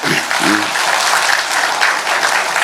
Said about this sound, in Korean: 자 박수 한번 해주세요.